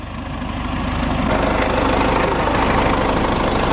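A tractor's diesel engine idles close by with a steady low rumble, its throb growing slightly heavier after the first second.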